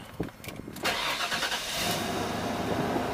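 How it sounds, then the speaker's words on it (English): A 1994 Ford Bronco's 5.8L engine cranks briefly, then catches and settles into a steady running rumble, loud and close. "I'm going to start it up"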